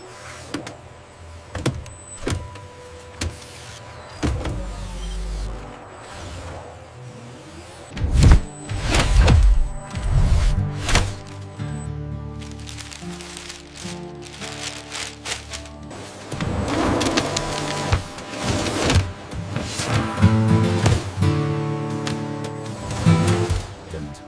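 A massive high-precision folding machine at work in a factory making underwear from banana waste, with repeated mechanical thumps, whirring motor runs and clattering movements rising and falling over about twenty seconds.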